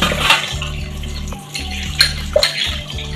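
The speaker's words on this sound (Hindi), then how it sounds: "तो अभी मैंने बर्तनों को अच्छे से साफ़ कर दिया पीताम्बरी के साथ" Metal utensils scrubbed clean with Pitambari cleaning powder at home, with close clattering and clinking of pots and cutlery in several bursts over a steady low hum, no talk.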